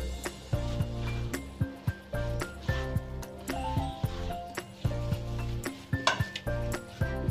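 Cut meatball pieces stirred in a pan, a spatula scraping and clinking against metal in an uneven series of sharp knocks over a soft sizzle, fairly quiet and close, with background music underneath.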